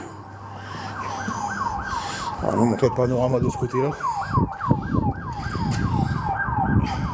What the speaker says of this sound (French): Alors avec la sirène, ça va vous donner un indice de où on est.